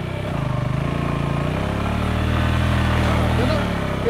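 A motorcycle engine drones steadily and close up as the bike pushes along a narrow jungle path lined with thorny brush, its pitch rising slightly as it labours, while people talk over it.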